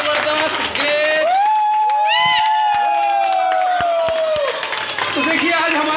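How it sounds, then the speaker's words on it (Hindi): A crowd at a bank branch opening claps and cheers loudly, with long sustained shouts and whoops rising over the scattered applause nearby. "एक बार है ना जोरदार तालियां हो जाए"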